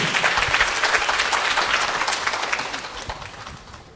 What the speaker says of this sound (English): let's give a warm round of applause to Professor Daniel Tan